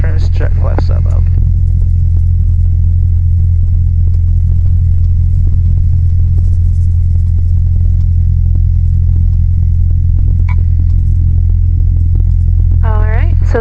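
A small aircraft engine at full throttle during the takeoff run, a loud, steady low drone heard from inside the cockpit that fills the whole stretch, with a voice speaking briefly at the start and end.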